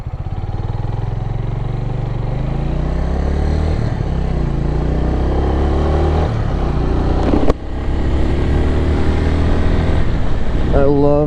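A Suzuki TU250X motorcycle rides at night, its single-cylinder engine droning loud and steady with shifting pitch through gear changes, close to the microphone, while a rider talks over it.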